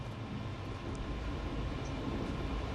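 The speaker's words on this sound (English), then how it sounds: "at least now the train is picking up speed along Croatia's modern tracks" A passenger train picks up speed on modern Croatian tracks, giving a steady, dense rumble and rattle of railcars heard from on board, with no voices.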